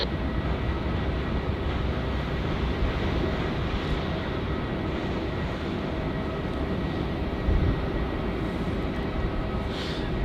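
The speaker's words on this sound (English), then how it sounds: "we have another Virgin Australia 737" A Virgin Australia Boeing 737 at Melbourne Airport in heavy wet weather, its engines producing a steady loud roar and whine at close range, with no speech over it.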